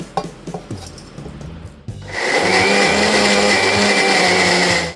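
A mixer grinder starts up after a few light clicks and handling noises, then whirs loudly and steadily with a high-pitched whine as it grinds spices such as cumin.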